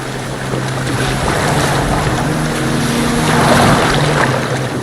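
Boat moving across water in Assassin's Creed Valhalla, a steady broadband wash of hull and waves with a low engine-like hum running throughout, loud and continuous with no talk.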